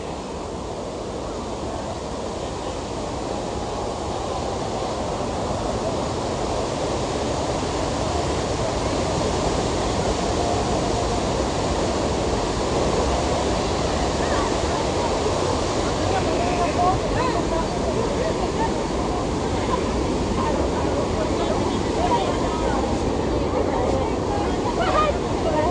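Niagara Falls thunders in a loud, unbroken roar of crashing water, with wind buffeting the microphone close up.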